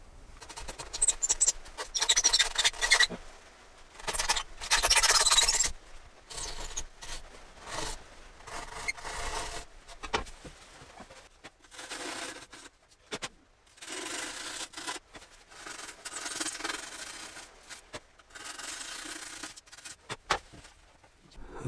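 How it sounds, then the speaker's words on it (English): Soft scraping and rubbing strokes on Celotex insulation board as shavings are gently pared off piece by piece, a series of close, quiet rasping bursts with pauses between them. "just a few of the shavings, very, very, very gently scraped off the board piece by piece"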